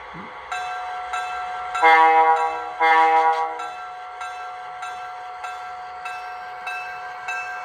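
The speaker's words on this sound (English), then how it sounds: "I'm gonna have it pulling this freight train" A small MTH GG1 model locomotive pulling a freight train crawls along steadily with a rhythmic electric whine, punctuated by two louder horn blasts and regular clicking beats.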